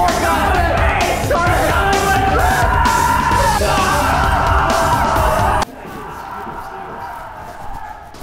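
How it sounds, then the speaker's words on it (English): Several people yell and scream loudly together during a real-life Among Us style game, a dense, continuous burst of shouting that stops abruptly and leaves quieter room noise. "Why is there so much screaming?"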